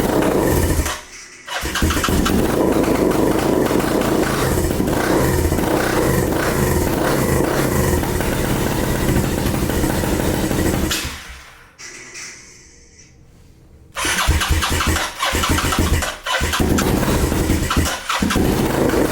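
A Kawasaki KLX110 dirt bike with a big bore kit fires up and runs loudly nearby, its engine roaring and revving with brief cuts and a short lull before picking back up.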